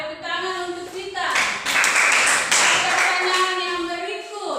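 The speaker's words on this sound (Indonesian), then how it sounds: "tepuk tangan untuk Vita" Schoolchildren in a classroom clap for a classmate, a short burst of clapping that swells for a couple of seconds in the middle, with voices talking before and after.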